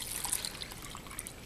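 Water poured into a 20-ounce cup, a faint continuous splashing trickle with small bright drips, steady and close, no talk over it.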